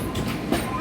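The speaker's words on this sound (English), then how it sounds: "we're going down the steepest grade of this train ride" A theme park train ride rumbles down a steep grade, its wheels rolling and clattering steadily and close by.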